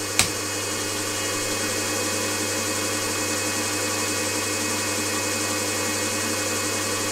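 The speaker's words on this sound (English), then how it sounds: "when I do actually switch the motor on, I get some noise." A small motor drives a home-made gear hobbing attachment on an MT50 milling machine, giving a steady, even mechanical whir and hum throughout, opening with a brief click.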